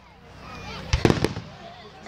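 A big firework bursts outdoors with a loud thump followed by a quick cluster of crackling pops, heard at a distance against a faint background of voices.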